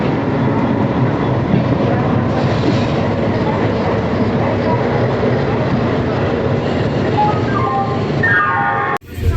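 Purva Express passenger train running after leaving Howrah station, a steady loud rumble of wheels and carriage noise throughout, with a brief rising tonal squeal near the end and a short dip before the roar resumes.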